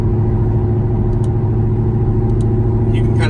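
Ford Mustang S550 engine idling and being revved with the throttle response raised, a steady loud mid-range drone that holds level throughout with a slight rise at the end.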